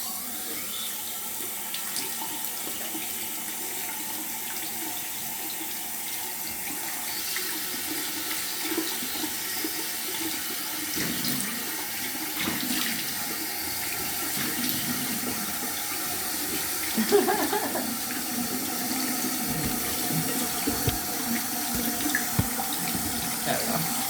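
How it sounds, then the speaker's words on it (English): A bathroom tap runs warm water while a face is rinsed, a steady splashing stream with small bursts as hands scoop and splash, continuous and close for the whole stretch. "now we're gonna wash it off with warm water"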